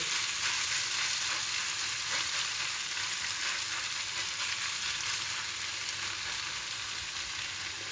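A Turkish herb pan bake sizzles steadily in a hot pan over medium heat, a dense, even crackling hiss that stays loud and unbroken throughout.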